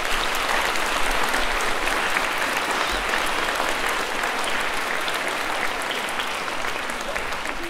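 Loud, sustained clapping fills a hall at a children's folk dance ensemble's 2024 Christmas concert, a thick continuous patter from a large audience lasting nearly eight seconds without speech.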